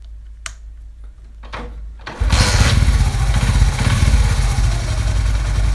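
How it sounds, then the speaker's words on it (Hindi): A Honda CD 70 motorcycle sits quiet for a moment with a few faint clicks and kicks, then its engine fires and settles into a loud, close, rapid putter that carries on steadily to the end. "अब मैं बाइक को स्टार्ट करता हूँ"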